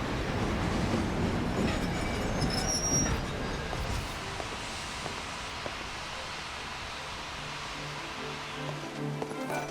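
Train rumbling and wheels clattering in the Wildlands of the game Lightning Returns: Final Fantasy XIII, loud at first and then easing to a steadier, quieter roll with faint metallic squeals.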